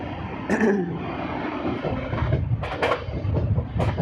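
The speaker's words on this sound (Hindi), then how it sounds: "ट्रेन ने रफ्तार पकड़ ली है धीमे धीमे।" An Amrit Bharat Express train runs through Aligarh Junction, heard from inside as a steady loud rumble with rhythmic wheel clatter and occasional sharper knocks as it gathers speed.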